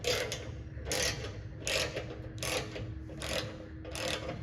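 Bolts are tightened by hand on an RMW Twin Peaks rear bumper being installed, giving a close, steady run of mechanical ratcheting clicks in several short repeated bursts with no voices.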